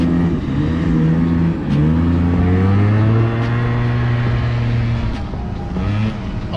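A liquid-cooled Yamaha Zuma YW50 scooter engine revs up and holds a rising, buzzing pitch, then eases off and climbs again, loud and close with no talking.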